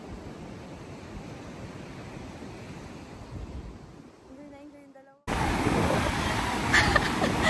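Strong wind roars steadily against the microphone, dipping briefly before a louder, harsher gust takes over for the final seconds.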